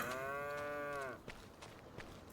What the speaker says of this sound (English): Checking on these cows, see how they're doing.